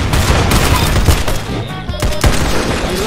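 Rapid bursts of gunfire from a sniper in the Roblox game Arsenal, loud and dense, with repeated sharp shots over a busy game background.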